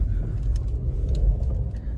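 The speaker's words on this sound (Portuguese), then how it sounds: "Rolezinho de Nissan Kicks." Nissan Kicks SUV driving along quiet streets, a steady low engine and road rumble with faint tire noise, continuous and close from inside the cabin, no talking.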